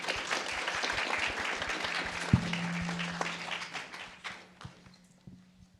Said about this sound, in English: thanks for that introduction and the cheer from the audience